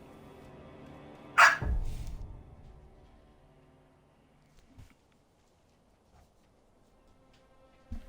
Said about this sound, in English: Dog is upset.